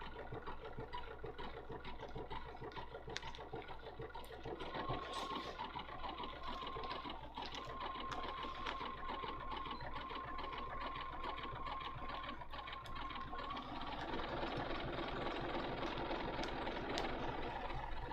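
A sewing machine runs a quick blanket stitch along felt, a steady mechanical whir with a rhythmic clatter that continues for the whole stretch, fairly close and moderately loud.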